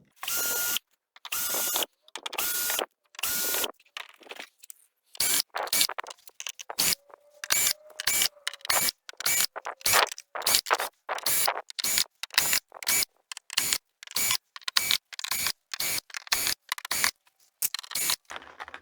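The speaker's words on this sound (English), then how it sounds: "So let's get the screws out." Rapid, repeated ratcheting clicks of a screwdriver backing screws out of a Panasonic TV back panel, close and crisp in short bursts separated by brief quiet gaps.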